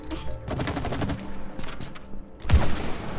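Rapid bursts of video game gunfire crackle in quick volleys, close and loud, with a heavier blast near the end.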